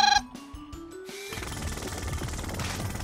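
A jackhammer in a Paw Patrol video game rattles against a boulder, a steady buzzing chatter that takes over after a short rising electronic tone and a few clicks at the start.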